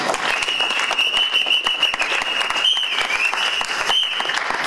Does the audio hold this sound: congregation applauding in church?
yes